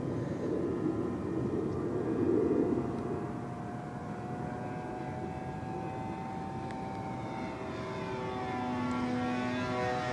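A vintage Byron Originals T-34B Mentor RC airplane flying at half throttle, its propeller and engine drone steady and moderately distant, swelling briefly and shifting in pitch as it passes, with no voices.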